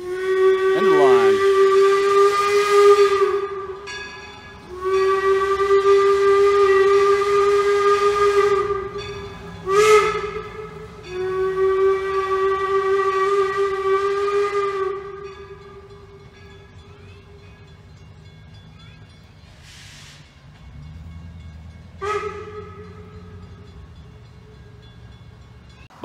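A steam locomotive whistle at the end of the line sounds in several long, loud blasts with short gaps, then fades into softer hissing steam and two brief final toots near the train.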